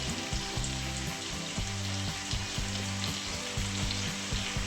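Fenugreek greens sauté in a pan over low heat, giving a steady soft sizzle with faint rhythmic stirring scrapes and a low hum throughout, no voices.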